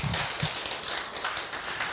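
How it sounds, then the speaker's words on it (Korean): Audience at a church seminar applauds a pastor after his lecture, a short burst of steady crowd clapping with a few sharper claps up front. "우리 김 목사님 위해서 여러분 큰 박수 부탁드립니다"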